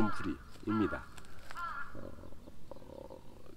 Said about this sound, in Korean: 계속 까마귀가 울고 있는데 이젠 익숙하시죠?